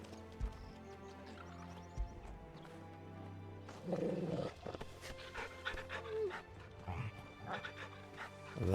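Dog panting in the video game Final Fantasy XVI, a steady close breathing rhythm over soft game music and ambient sounds, with horse-like chocobo noises and footsteps around it.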